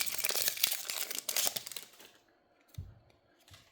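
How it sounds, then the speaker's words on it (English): A Magic: The Gathering booster pack is ripped open, a loud, close burst of crinkling, tearing foil wrapper for about two seconds, followed by quieter rustles and a couple of soft handling thumps. "Gonna go ahead and rip our third pack open."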